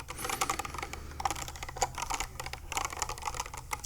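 A barely used computer keyboard is typed on steadily and rapidly, with dense clicky keystrokes picked up close by a high-sensitivity microphone and no voice over them.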